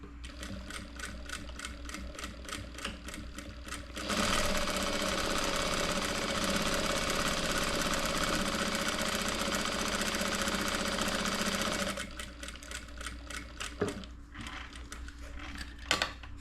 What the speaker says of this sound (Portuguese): eu gosto de costurar já fazendo o início aqui nas pontinhas, porque daí eu sei que elas vão ficar bem ajustadinhas